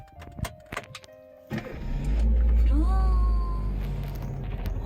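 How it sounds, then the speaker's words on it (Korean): A Chevrolet Spark with 68,332 km from a single owner has its engine started from inside the cabin. A few dashboard chimes come first, then a brief crank and a loud catch that settles into a steady, close idle hum. "그리고 시동 한번 걸어볼게요."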